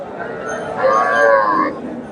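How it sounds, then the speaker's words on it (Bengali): A native dairy cow at the Chandaikona cattle market gives one long, loud, drawn-out moo that swells in the middle, close by over faint market murmur. "এখানে একটা দেশি গাভী দেখেন"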